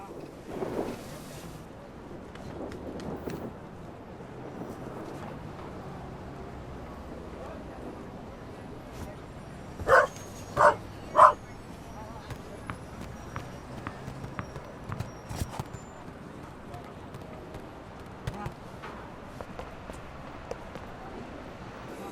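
A dog gives three quick, close barks in a burst midway through, with a few softer yips later, over a steady outdoor background with some wind noise.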